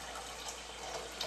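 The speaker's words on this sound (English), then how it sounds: "For right now I'm going to use water. And what I want you to do is go ahead and fill it up." Water runs from a tap into a pot being filled for cooking rice, a steady close hissing, splashing stream without pause.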